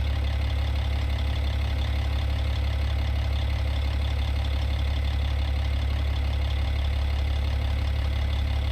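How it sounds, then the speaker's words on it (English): A heavy truck engine idles steadily in American Truck Simulator, a loud, constant low rumble with a faint knocking texture and no break throughout. "You just got the engine pack and sound, Bluey."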